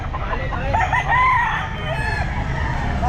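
A rooster crows loudly and nearby at a pet market, its drawn-out call rising and falling over steady background noise.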